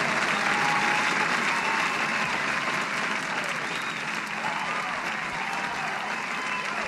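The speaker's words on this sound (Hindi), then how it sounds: "तालियां, पहला पड़ाव आपका पार हो चुका है" Audience applause at a religious quiz event fills a hall as a sustained, dense patter of many hands. It stays at an even, fairly loud level for about seven seconds without a break.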